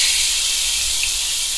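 Marinated bulgogi beef sizzles in a hot pan, giving a loud, steady, close hiss that carries on evenly and then cuts off abruptly.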